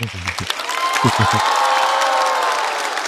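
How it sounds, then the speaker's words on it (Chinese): Applause and cheering from a stand-up comedy audience, a dense crowd wash with a few whoops, starting over brief talk and carrying on steadily for about three seconds. "来，再次掌声送给侯志源。"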